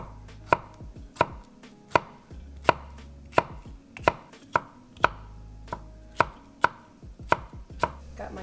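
A new kitchen knife chopping food on a board, about fourteen crisp, evenly spaced thuds roughly every half second, close and clear with no talk.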